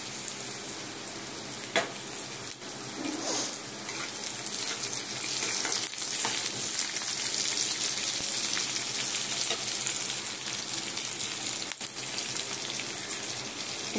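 Green chillies sizzle and crackle steadily in hot oil while red amaranth greens fry, a continuous close, loud hiss with small pops and the occasional stir, no voices.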